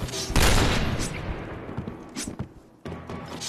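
Gunfire bursts in an online shooter game with an AWP sniper rifle: a loud volley at the start, then scattered thuds and shots fading back, with a final sharp burst near the end.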